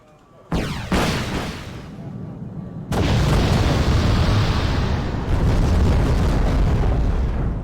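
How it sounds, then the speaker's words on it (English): Harrier air strike explosions in Wargame: Red Dragon hit North Korean tanks, sharp booms landing one after another, then a heavy blast swelling into a loud, sustained rumble that continues to the end. "All right, let's get the Harriers to drop over here. I'm making an attack run."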